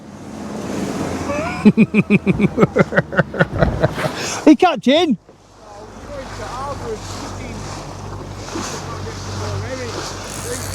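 Sea waves around a fishing boat on UK coastal waters, first a run of rhythmic pulsing knocks, then a broad continuous wash of water and wind noise, with a person speaking briefly near the microphone.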